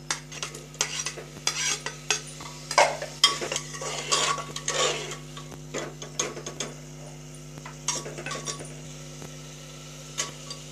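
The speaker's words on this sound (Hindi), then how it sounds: "इसमें हम ये चने की दाल डाल के इसे फ्राई कर देते हैं इसमें हम लौकी डाल देते हैं" Chana dal and bottle gourd fry in a pan with masala, a spoon scraping and stirring against the metal over a steady low sizzle; irregular clinks and scrapes continue close up throughout, with a constant hum underneath.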